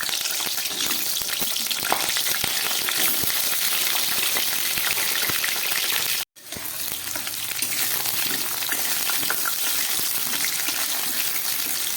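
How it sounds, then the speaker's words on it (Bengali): Potato pieces fry in hot oil in a kadai, giving a loud, steady close-up sizzle and crackle that cuts out for a split second midway, then carries on. "আলুগুলোকে আমি একটু হালকা করে ভেজে নেব"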